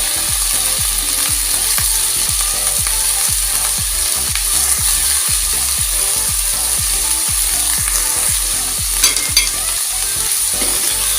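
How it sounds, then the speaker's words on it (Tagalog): Chicken and sliced eggplant with shrimp paste are stirred in a pan, giving a loud, fast rhythmic scraping and clacking of the utensil over a continuous sizzle, with no talk. "Haluin lang mabuti para malagyan lahat ng bagoong ang ating hiniwa-hiwa na talong."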